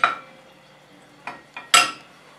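Garlic paste being stir-fried in a pan, sounding as a few sharp metallic scrapes and clinks of a utensil against the pan, spaced apart with quiet gaps between them.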